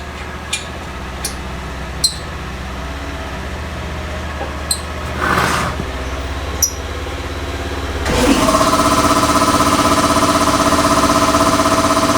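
In a workshop during a 4x4 brake disc and pad install, faint scattered clicks and taps sound before an air compressor kicks on and settles into a loud, steady, droning hum.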